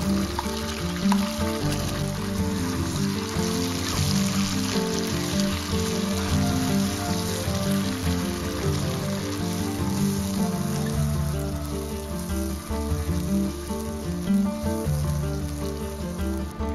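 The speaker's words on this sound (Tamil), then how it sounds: "நல்லா ஃப்ரை ஆனதுக்கப்புறம் நம்ம பேஸ்ட் பண்ண சில்லி பேஸ்ட்டை இதில் ஆட் பண்ணி நல்லா மிக்ஸ் பண்ணிக்கலாம்." Homemade chili paste frying in oil in a pan for Schezwan chicken fried rice, giving a loud, dense, continuous sizzle with crackling close up, unbroken for the whole stretch and with no talking.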